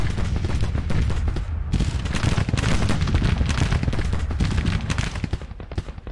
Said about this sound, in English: Now we've got two brigades firing on Ord.